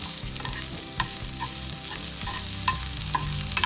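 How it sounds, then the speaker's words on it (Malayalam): Grated coconut roasting in a pan for a Thattukada-style vegetable curry, a steady close sizzle and frying crackle with repeated scraping stir strokes throughout, no voices. "ജസ്റ്റ് ഒന്ന് തേങ്ങ വറക്കണമെന്ന് മാത്രം"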